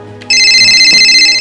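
A telephone ringtone bursts in loudly and keeps ringing without a break, a steady bright electronic trill that fills the room alone, with no talking over it.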